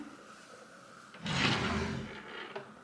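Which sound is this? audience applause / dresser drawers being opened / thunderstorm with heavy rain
dresser drawers being opened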